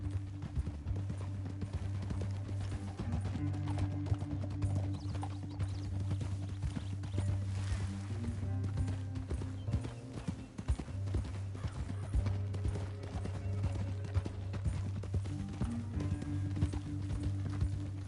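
Horses' hooves clip-clop steadily over a long stretch under a low droning background, at a moderate, even rhythm and middling distance, with no clear talk.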